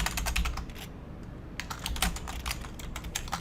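Computer keyboard keys rattle as HTML code is typed for a school web design lesson. Quick close bursts of keystrokes come in two runs split by a brief pause, with no talk over them.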